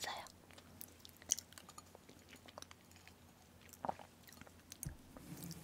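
Soft crunching and chewing of meringue cookies in close-up ASMR, faint scattered crisp bites and mouth sounds over a quiet background, with a few louder crunches.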